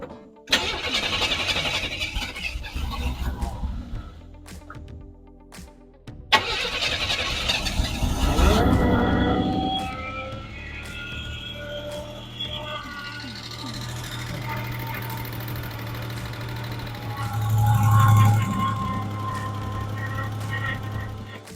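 A Buick Grand National under rebuild cranks over in short whirring bursts, then catches and runs with a rough, close engine note that rises and settles into an idle.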